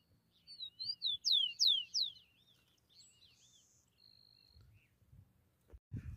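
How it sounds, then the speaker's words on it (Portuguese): A free-flying tico-tico, the rufous-collared sparrow, sings a short run of clear whistled notes that sweep up and down, fairly close, followed by a faint high tone, quiet background, and a few low thumps at the end. "o solto cantando bastante"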